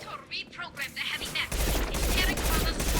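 Rapid submachine gun bursts from Mass Effect 2 crackle through the scene alongside other firing and impacts, a dense, continuous stream of shots that grows heavier in the second half.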